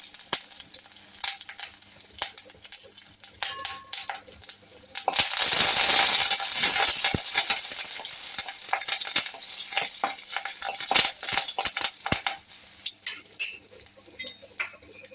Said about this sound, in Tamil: வரமிளகாய் எடுத்து வச்சுருக்கோம்ல, அதை போட்டுருவோம். கொஞ்சம் கருவேப்பிலை செவ்வா பண்ணிடலாம்.